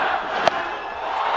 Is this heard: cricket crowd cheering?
yes